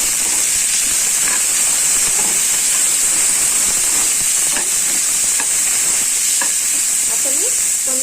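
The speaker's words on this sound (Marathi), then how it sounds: "आता हे मिक्स करून घ्यायचंय।" Cabbage and dal with turmeric powder are stirred as they fry in a pan, giving a loud, steady sizzle and hiss throughout with faint scraping of the spoon underneath.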